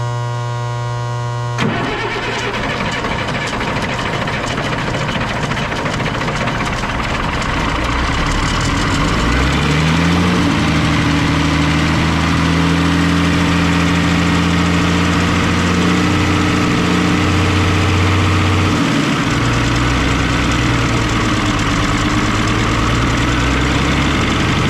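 An M35A2 military truck's diesel engine cranks briefly, catches and fires up, then settles into a loud, rough, rumbling idle that holds steady close by, with its pitch wavering slightly.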